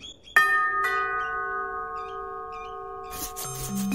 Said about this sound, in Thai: ฉันจะกดกริ่งแล้วนะ